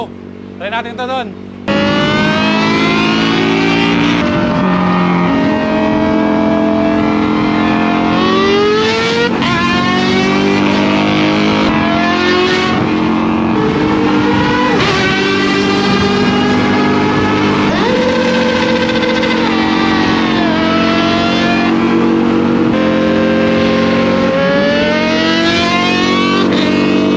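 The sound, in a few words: Kawasaki ZX-4RR motorcycle engine roaring with Villain R11 exhaust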